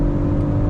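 BMW XM 50e plug-in hybrid under acceleration at highway speed, a steady loud low engine drone and rumble with road and wind noise, continuous throughout with no talking.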